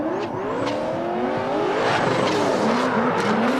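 Chevy Corvette drift cars at an LS Fest West drift challenge scream loudly with high revving engines and squealing tires, sustained and close throughout.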